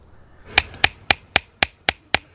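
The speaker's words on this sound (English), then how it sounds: "And now you can hammer it again." Annealed, softened copper struck with a hammer while shaping a dart point, eight sharp metallic blows in a steady, evenly spaced rhythm, close and clear with no voices.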